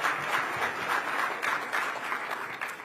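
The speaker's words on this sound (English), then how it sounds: "I think we applaud again." A gala audience keeps up sustained, even applause, a dense wash of many hands clapping that holds steady throughout at moderate loudness.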